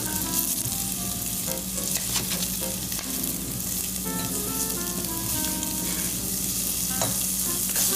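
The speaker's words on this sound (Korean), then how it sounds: "그 풋내가 안 날 때까지 볶는 게 요령입니다" Vegetables and tomato stir-fry in a pan with a steady, close crackling sizzle, with occasional scraping and stirring clatter throughout.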